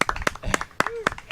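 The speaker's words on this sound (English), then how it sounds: "Hold on a second while I stand up and applaud." A few sharp hand claps from a game commentator, spaced irregularly, mixed in with his talking voice and some background game noise.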